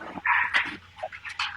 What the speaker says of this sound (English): Because your dogs are barking pretty loud,